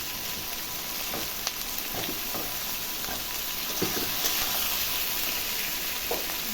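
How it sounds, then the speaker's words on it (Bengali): Potatoes, onion and garlic frying together in a pan with turmeric and salt, a soft steady sizzle with occasional light taps and stirring clicks, close and fairly quiet, no voices. "আলুটার সঙ্গে পেঁয়াজটা ভাজা হোক,"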